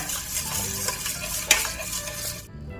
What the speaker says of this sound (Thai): เราก็ใส่ผงวุ้นลงไปค่ะ แล้วก็คนให้เข้ากันกับน้ำนะคะ